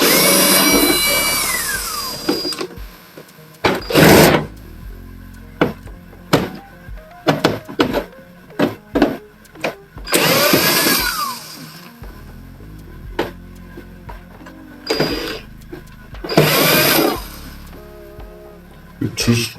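Screws are removed from a Kyocera printer with a whirring power driver in repeated short bursts, mixed with clunks and plastic handling noises, while a person talks between the runs.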